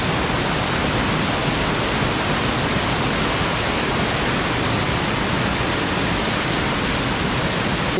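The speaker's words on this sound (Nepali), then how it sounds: "अब यहाँ राम्रो खोला रहेछ" A mountain stream rushes along the trail to Kapuche glacier lake in Nepal, a steady, loud, unbroken broadband roar of flowing water with no voices.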